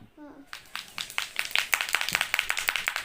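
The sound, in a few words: children clapping hands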